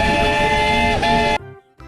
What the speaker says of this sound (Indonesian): Wadidaw, lihat, keluarlah kereta api.